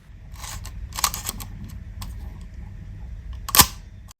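An older film camera, a Soviet-era model, has its shutter fired in a quiet room: several faint clicks and then one sharp, close mechanical snap near the end, with no voices.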